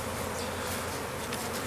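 Honey bees buzz densely and continuously at an open hive while frames are worked gently with a hive tool, a close, loud drone with no voices.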